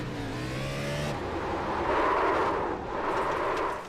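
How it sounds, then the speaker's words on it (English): A race car engine screams past its limit at Martinsville Speedway in a racing video game, a high whining drone from the cockpit that climbs and holds loud and steady, with a brief shift in pitch early on. "He just went way too high up in the RPMs."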